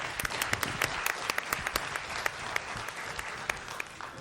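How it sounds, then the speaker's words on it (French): An audience applauding a director after a speech at a 2017 gathering, a sustained wash of many hands clapping with sharp individual claps standing out, moderately quiet and unbroken. "Je pense que ça mérite une bonne main d'applaudissements."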